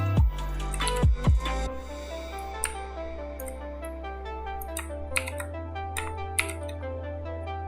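Computer keyboard keys pressed during a Photoshop session, some heavy thumps early, then scattered light clicks and taps at an uneven pace, close and clear over a steady low background hum.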